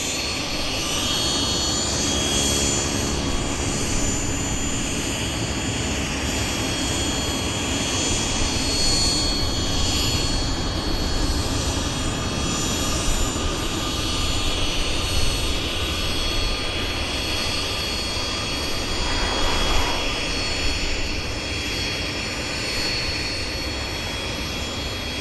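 Aircraft jet engines spool up at Vancouver Airport, a loud, steady roar with a high whine layered over it that persists throughout, heard from close range without any speech.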